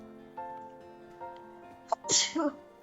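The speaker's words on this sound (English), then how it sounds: "I just had to sneeze" A single sharp sneeze bursts out near the end, following a brief inhale, over faint background music in a quiet scene.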